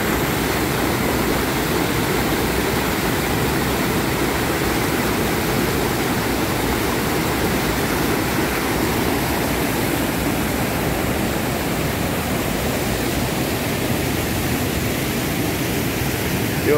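The Khardu river pours over a dam in a continuous, loud, broadband rush of water that holds steady throughout, close by and with no talking over it.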